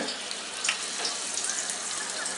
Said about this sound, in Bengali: এখন তেলের মধ্যে ছেড়ে দিতে হবে।